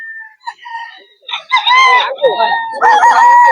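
Roosters crowing loudly and close at a farm breeder's sale of fowl in Bocaue, two clear crows following scattered clucks and short calls.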